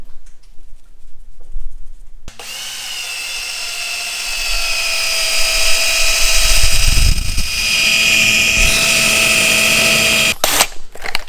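A power drill whines steadily at high pitch for several seconds, its motor tone shifting slightly under load, then cuts off abruptly near the end.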